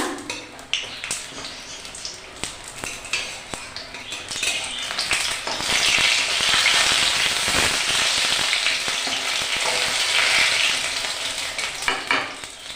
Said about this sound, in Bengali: সব বড়াগুলো এইভাবে ভেজে নেব